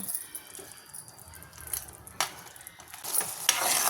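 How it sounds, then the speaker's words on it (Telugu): Tamarind pulp with a spoon of jaggery simmering and sizzling in oil in a pan, with a steady bubbling crackle, occasional stirring scrapes and louder spits toward the end, close and alone. "ఈ చింతపండు పులుసు బాగా దగ్గర పడేదాకా ఉడికించుకుందామండి."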